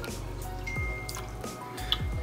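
A simple siphon hose being started during saltwater aquarium maintenance, with soft dripping and trickling water sounds repeating close by over a steady low hum.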